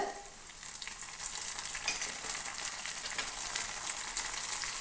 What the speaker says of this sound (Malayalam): പച്ചമുളക് ഒരു പകുതി ഫ്രൈ ആകുമ്പോഴേക്കും ഇതിലേക്ക് നമുക്ക് കറിവേപ്പില ചേർത്ത് കൊടുക്കാം